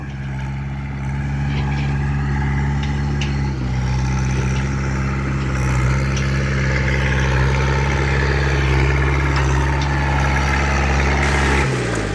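A steady, low-pitched tractor engine idles continuously with a deep rumble, shifting slightly in tone partway through, with no voices.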